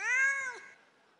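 A single clear cat meow, close and fairly loud, rising then falling over about half a second before fading into quiet, with no voices.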